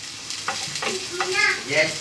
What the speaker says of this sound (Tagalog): Let's fry them together. Fry the onion and garlic.